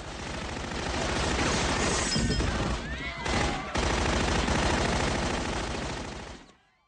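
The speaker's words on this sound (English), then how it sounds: "Some German submachine gun." Sustained automatic fire from a German submachine gun in a Star Trek film scene, loud continuous rattling bursts with a brief drop in the middle before cutting off near the end.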